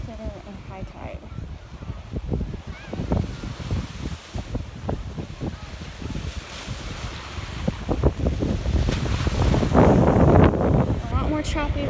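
Ocean waves at high tide breaking on a sunset beach, with choppy surf swelling louder toward the end under heavy wind buffeting on the microphone.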